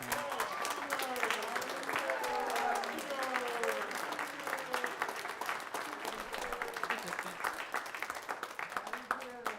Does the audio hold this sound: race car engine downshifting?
no